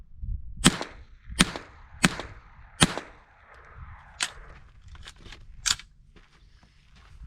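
Subsonic rounds are fired through a JK Armament suppressor outdoors. About eight sharp, muffled reports come at irregular intervals roughly a second apart, close by, with faint background noise and no talk.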